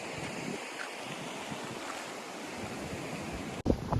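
Caribbean Sea surf washing against the shore below the main Maya temple at Tulum, Mexico, a steady broadband roar with wind buffeting the microphone and a brief dropout near the end.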